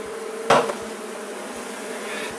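Honeybees fly around an open hive while queens from grafting are introduced into artificial swarms, giving a steady close buzzing drone broken by one brief knock as a frame or tool is handled.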